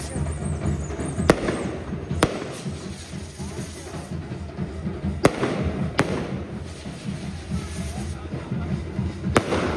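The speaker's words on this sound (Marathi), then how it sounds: "तुम्ही बघू शकता की फटाक्यांची आतषबाजी चालू आहे" Fireworks burst at a church's 100th anniversary celebration, several sharp cracks spaced irregularly over a continuous crowd murmur and distant chatter.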